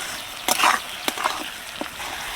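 Chopped tomatoes with salt sautéing in a pan for a lote fish curry, a soft steady sizzle with a few brief louder stirring scrapes.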